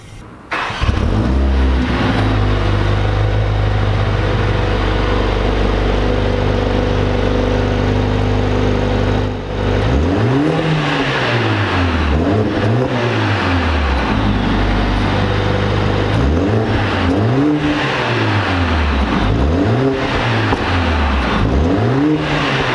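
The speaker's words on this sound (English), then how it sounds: "let's get a start up," Mercedes-Benz A45S Edition 1 starting up with a loud burst, settling into a steady idle, then revved hard several times in rising and falling sweeps, close and alone with no talk.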